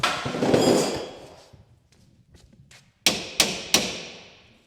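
Rear suspension spring bolts being hammered out, three sharp metallic strikes in quick succession, each ringing briefly, preceded by a duller thud and scattered clunks, close and loud with no talking.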